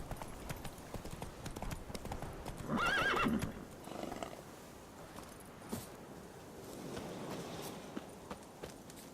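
Roach, Geralt's horse in The Witcher 3, gallops with rapid hoof clip-clop and a loud whinny near the start, over faint ambient game sounds.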